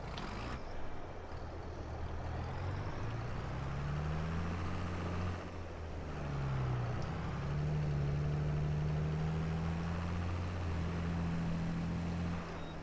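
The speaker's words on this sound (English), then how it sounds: "I started this engine." A tractor engine runs steadily in Farming Simulator 22, a continuous low droning hum with a slight dip around midway, loud and alone without voices.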